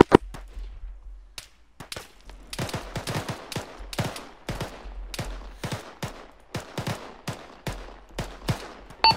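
Rapid, irregular bursts of gunfire crackle through a military shooter game, with sharp overlapping shots and volleys that rise and fall in rhythm over a low steady background rumble.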